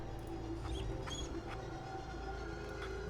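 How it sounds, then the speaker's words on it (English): A dog being petted in Fallout 4, giving soft whimpers and yips over a steady hum of game ambience, close and fairly quiet. "You can also pet the dog"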